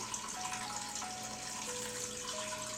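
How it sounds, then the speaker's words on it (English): Water pours in a steady stream from a faucet or jug into a crock pot of vegetables, a continuous close splashing fill with a faint tonal ring and no talk. "I'm just going to add water."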